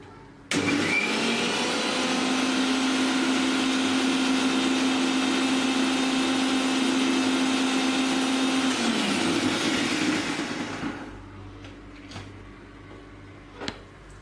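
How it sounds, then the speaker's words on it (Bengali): An electric blender grinds potatoes with water in a kitchen, a loud steady whirring drone for about nine seconds that winds down and stops, followed by a few light knocks. "এবার এটিকে আরেকবার পিষে নেব"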